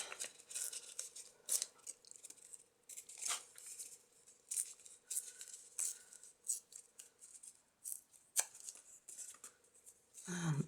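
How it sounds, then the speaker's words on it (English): Paper being torn into small bits for a butterfly-inspired folio journal pocket, a series of short close ripping and crinkling bursts spaced irregularly, with a faint steady hum underneath. "I'm just going to rip these bits off."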